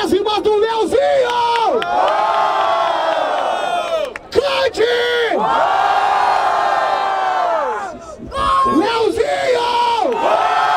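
Loud crowd at a Brazilian rap battle semifinal in Barueri cheering, yelling and chanting in sustained roaring waves, with brief dips, while an MC shouts over the noise.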